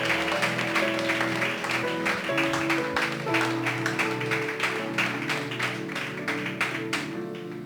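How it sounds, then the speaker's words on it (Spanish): A church congregation at a Sunday school service claps in a rhythmic, fairly loud pattern, with sustained musical tones running beneath the beat. "Alguien tiene que aplaudir por eso."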